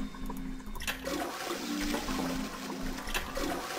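A toilet flushes in the Zero Escape 999 video game, a loud sustained rushing of water with a gurgling hum underneath, running steadily from start to finish.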